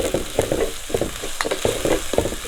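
Ginger garlic paste sautéing in a pan for a Kerala mackerel (ayala) dry curry, with a steady frying sizzle under quick, repeated scraping and stirring strokes, close and moderately loud, with no voices.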